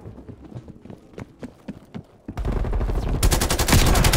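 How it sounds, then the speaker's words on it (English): Shotgun blasts and heavy gunfire in the multiplayer mode of Call of Duty: Black Ops Cold War, sparse thuds at first, then a dense, loud burst of rapid fire that fills the second half. "killed by a bloody shotgun"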